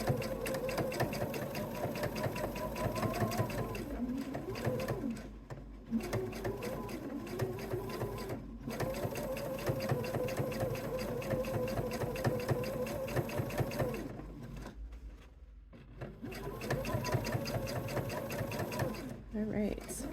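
A sewing machine topstitches through fabric lining in steady mechanical runs with brief pauses between passes, close and fairly even in level, with a voice talking over it.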